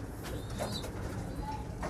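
French-company meat pigeons and squabs in a loft, with soft, low cooing calls close by over a steady background hum.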